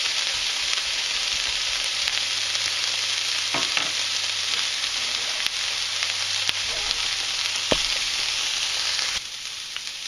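Onions fry and caramelize in a pan with a steady, dense sizzle throughout, broken by occasional soft scrapes and clicks of stirring, close and continuous.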